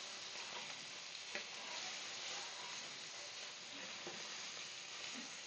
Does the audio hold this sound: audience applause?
no